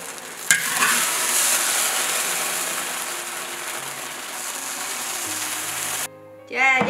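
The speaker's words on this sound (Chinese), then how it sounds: "去炒一下" Stir-frying in a wok gives a steady, close sizzle with a sharp metallic clank near the start. The frying cuts off abruptly near the end, followed by a brief voice.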